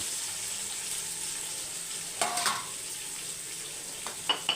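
Sliced onions sautéing in a pan for chicken thokku give a steady, close frying sizzle, broken by a few soft knocks of a stirring spoon against the pan.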